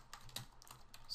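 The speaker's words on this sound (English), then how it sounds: "I'm going to start typing" Quick keystrokes on a computer keyboard while text is entered in Photoshop, a handful of soft, close clicks in an uneven rhythm with no talking.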